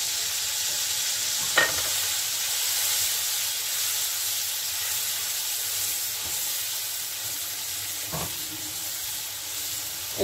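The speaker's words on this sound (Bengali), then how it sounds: "এখন একসঙ্গে এগুলোকে আমি কষিয়ে নিচ্ছি" Ground spice paste with whole cumin seeds sizzles and fries steadily in a pan, a continuous close hiss with a few sharp clinks of stirring, no talking.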